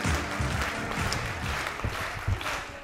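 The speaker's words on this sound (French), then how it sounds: "on peut l'applaudir" A seated crowd at a small-business award ceremony applauds steadily, a fairly even wash of clapping at moderate distance with no clear voices over it.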